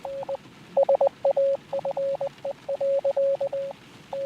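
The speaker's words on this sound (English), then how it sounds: "Oh my god, is it Morse code?" Morse code beeps from the video game Letter Lost come as a sequence of clean, steady electronic tones in short dots and longer dashes, irregularly spaced, played alone at moderate volume.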